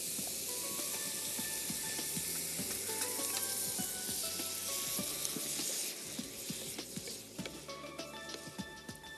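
Cooked green peas stirred into sizzling chicken masala in a pan, a dense continuous crackle and hiss with frequent spoon scrapes, easing slightly partway through and heard alone without speech.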